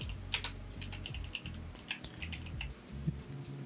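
Someone types a command on a computer keyboard while fixing a Windows 10 internet connection, giving a quiet, irregular run of close key clicks and taps with no talking.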